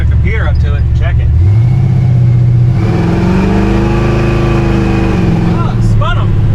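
A truck engine revs hard and drops back, its pitch sweeping up and down while the tires spin, loud and close, with people talking over it.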